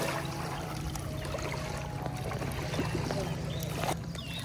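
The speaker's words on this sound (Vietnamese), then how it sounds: "Trời đất ơi sóng nè." Waves lapping on Tuyen Lam lake in Da Lat, a steady low wash and trickle of water close by, with faint tour-boat rumble underneath and no talk.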